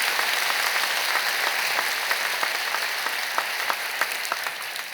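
A church congregation breaks into steady, dense applause that carries on evenly for five seconds, many hands clapping together at close-to-moderate distance with no talking on top.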